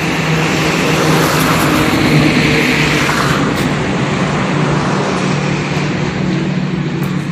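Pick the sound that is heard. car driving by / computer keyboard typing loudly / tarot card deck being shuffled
car driving by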